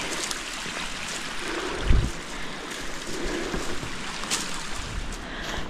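Buckeye Creek flows steadily nearby on a mountain hiking trail, a continuous broadband rush of running water with a brief thump partway through, no voices.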